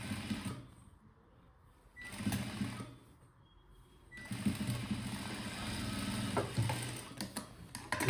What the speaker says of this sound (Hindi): ये आधा इंच का जो हमने मार्जिन लिया था, इसी के ऊपर इसी हिसाब से सिलाई लगाते हुए